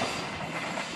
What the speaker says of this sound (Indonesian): itu dia kereta api Kuto Jaya Selatan